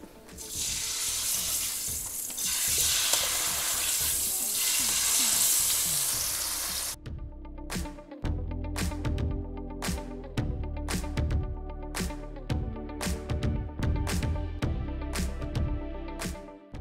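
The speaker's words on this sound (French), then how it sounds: "Là je vais faire cuire donc ma viande que nous avons marinée" Marinated steak frying on a very hot electric cooktop plate: a loud, steady sizzle for about seven seconds, then a quieter crackling with sharp pops and spits as the meat cooks, no voices.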